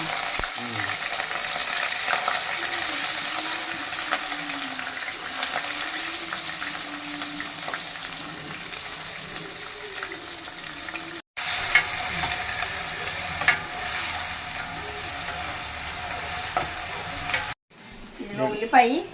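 Onions sizzle and fry steadily in hot oil in a pan for a mutton curry, a continuous close crackling hiss with occasional stirring, interrupted briefly twice.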